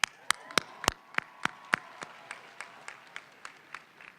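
A series of sharp, separate claps fading in strength, like a small audience clapping in a thinning rhythm, at the UCLA School of Law commencement ceremony.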